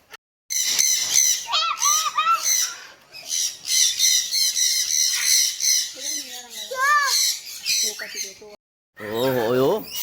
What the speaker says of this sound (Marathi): हे बघा केवढे केवढे पोपट आणि एवढा जवळ ना.